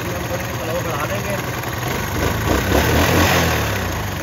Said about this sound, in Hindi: अभी ये मैंने बाइक को स्टार्ट कर दिया।